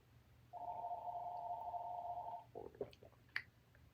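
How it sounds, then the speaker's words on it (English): A single telephone ring, a steady electronic warble lasting about two seconds in a quiet room, followed by a few faint clicks and small handling noises. "We're just going to listen to the phone ring."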